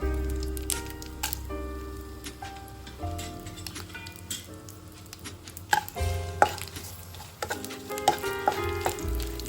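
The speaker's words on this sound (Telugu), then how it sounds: "అదే ఆయిల్లోకి ఎండుమిర్చి వేసాను" Dried red chillies frying in leftover oil in a pan, a crackling sizzle with irregular pops and clicks of stirring, close and moderately loud, no talk.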